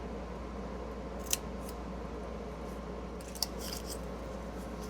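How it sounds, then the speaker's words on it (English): Scissors cut through paper along a fold line, with two brief, crisp snips standing out over a quiet, steady room hum, close by and with no talking. "you're going to cut on your fold line on all sides, both sides"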